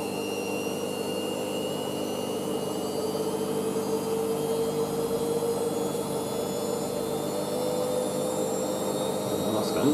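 A new washing machine ramps up into a spin of around 800 RPM with a steady rising whine and a rumbling drum, close and continuous, with a rising tone sweeping upward throughout.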